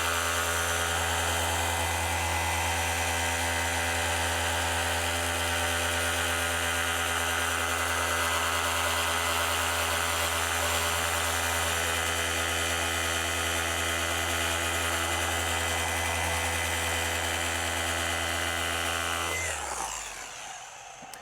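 A machine polisher runs steadily buffing glossy piano black car trim, a continuous close whirring drone with a strong steady hum that holds for about twenty seconds before winding down at the end.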